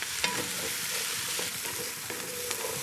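Halved mushrooms with stems removed softening in a beef stew pot with onions, giving a steady close sizzle with occasional utensil scrapes and clicks, no voices.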